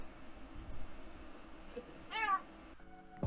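A pet cat gives a single short meow at close range in a quiet room, followed by faint rustling and a brief clatter.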